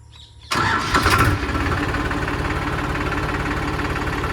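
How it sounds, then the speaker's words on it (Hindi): A Powertrac Euro 50 Plus 50 hp tractor engine cranks and catches about half a second in, then settles into a loud, steady diesel idle with a rapid knocking rhythm. "अब मैं आपको स्टार्ट करके इस ट्रैक्टर की आवाज़ भी सुनाता हूँ।"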